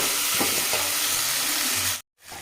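Sliced red onions frying in a pan while cooking a rice dish: a steady, loud, crackling sizzle that cuts off abruptly near the end, then briefly resumes more quietly.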